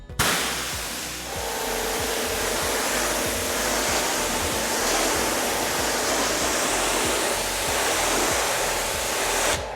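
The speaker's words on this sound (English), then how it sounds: "basically you want to spread it with the pressure washer" A pressure washer sprays a car during a wash before a ceramic coating, giving a loud, continuous hiss that starts abruptly and runs unbroken and close, with no talk.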